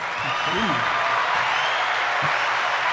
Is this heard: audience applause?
yes